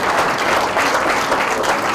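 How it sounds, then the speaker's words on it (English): An evening audience at a translated talk claps in a dense, steady round of applause, loud and close, with no voices breaking through. "A big round of applause."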